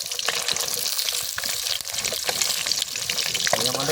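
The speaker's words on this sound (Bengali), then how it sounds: "মাছটা খুব সুন্দরভাবে ভেজে নেবো।" Fish pieces frying in a pan outdoors in a village setting, a constant crackling sizzle up close with scattered clinks and water-like splatter throughout.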